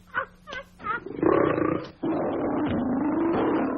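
A lion roars loudly and close, with a few grunting calls that build into a long, deep, sustained roar. It comes from a 1949 comedy film set in Africa.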